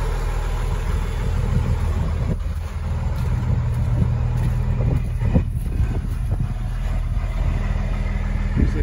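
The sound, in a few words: six-cylinder diesel bus engine idling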